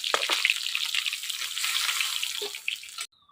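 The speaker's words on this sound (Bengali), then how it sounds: "হয়ে গেছে মাছ ভাজা" Boal fish fries in hot oil in a small kadai in a village kitchen. Loud, crackling sizzle with scattered pops runs for about three seconds, then cuts off abruptly.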